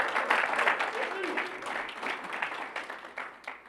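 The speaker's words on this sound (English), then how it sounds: "Give him a huge round of applause." An audience at an evening event applauds a visiting PGA Tour champion, a moderate, steady wash of clapping that tapers off toward the end, with voices faintly audible beneath it.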